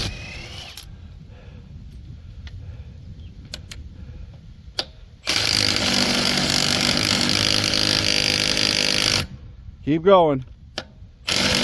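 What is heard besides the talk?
removing wheel lug nuts while changing to snow tires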